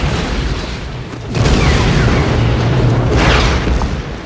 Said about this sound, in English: What a fantastic explosion